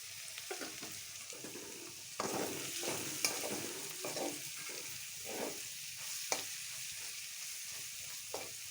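Spices, garlic, chili powder and coriander powder sizzle steadily in hot oil while a utensil scrapes and stirs the pan in a loose, repeating rhythm, close and alone.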